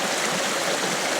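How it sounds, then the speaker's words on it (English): Water from a mountain spring flows in a steady, close broadband rush, uninterrupted across the whole moment. "The spring is right there. The purest water you can have."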